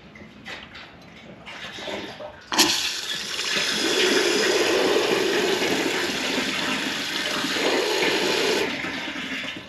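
Liquid fertilizer pours into a spray tank and is rinsed down with water, a steady rushing splash that starts abruptly after a few faint knocks and runs loud and continuous before cutting off near the end.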